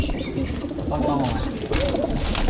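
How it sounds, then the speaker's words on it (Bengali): A flock of pigeons coos steadily in a loft where fancy pigeons are kept for sale, the soft burbling calls overlapping close by, with a voice and background noise mixed in. "আসলে অনেক অনেক কবুতর আছে"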